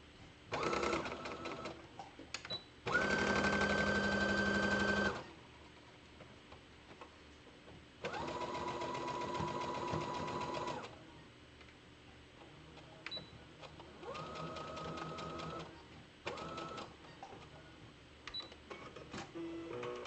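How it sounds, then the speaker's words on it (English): A sewing machine stitches the shoulder seams of a T-shirt in several separate runs, each a steady mechanical whirr lasting a few seconds, broken by pauses filled with small clicks and handling noises. "I'm just sewing the shoulder seams together now, after putting it right sides together."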